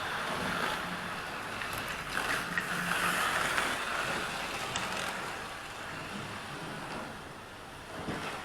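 Small model railway trains running on a home layout, a steady mechanical whir and rattle of motors and wheels with clicking track noise, fairly close and continuous throughout, no talking.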